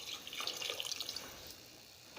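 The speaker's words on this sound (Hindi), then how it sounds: "अब मैं इसमें पानी डालूँगी।" Two glasses of water pour into a cooking pot of peas and chicken, a close, steady splashing stream that tapers off toward the end, with no talking.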